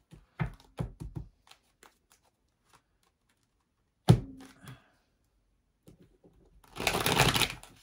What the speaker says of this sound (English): I'm going to shuffle the cards 2 times.